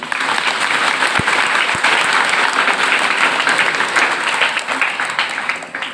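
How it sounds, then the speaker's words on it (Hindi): Steady, dense applause from an audience of students at a police superintendent's motivational address, loud and close, with no break or voices over it for the full six seconds. "तैयार हो तो ताली बजनी चाहिए सब लोगों के लिए।"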